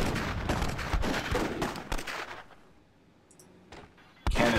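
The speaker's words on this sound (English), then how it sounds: "Cannon blown to bits." Rapid gunfire and impacts in a video game battle as a cannon is shot to pieces, a dense burst of shots that drops to a quieter stretch before another sharp blast near the end.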